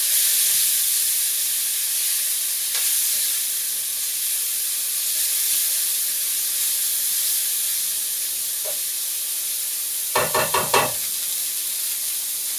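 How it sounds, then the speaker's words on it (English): Four garlic cloves fry in a little olive oil in a heated saucepan, giving a continuous soft sizzle and hiss throughout, with a short clatter of utensil knocks near the end. "put 4 cloves of garlic in a heated saucepan with a little bit of olive oil"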